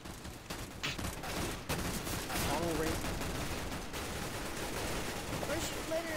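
Rapid bursts of gunfire crackle through a CS:GO match, dense and continuous for several seconds with scattered distinct shots, while a person talks over the noise.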